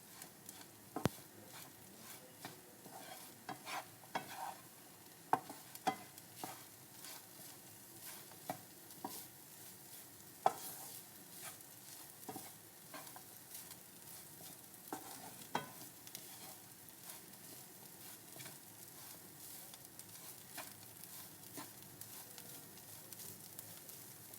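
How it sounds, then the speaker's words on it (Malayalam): Chicken thoran is stirred in a pan over a low flame, a faint soft sizzle broken by irregular scrapes and taps of the spoon against the pan, with no one speaking. "എന്നിട്ട് എല്ലാം ഒന്ന് മിക്സ് ചെയ്ത് ഒരു 1-2 മിനിറ്റ് കൂടെ നമുക്ക് ചെറിയ ഫ്ലെയിമിലിട്ട് ഇതെല്ലാം നല്ലപോലെ മിക്സ് ചെയ്തെടുക്കാം"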